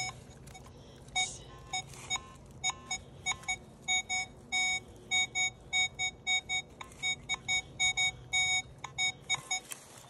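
Metal detector sounding repeated beeps over a buried target reading about 60, in a series of short, evenly spaced tones that grow more regular midway, over a faint outdoor background with no talk.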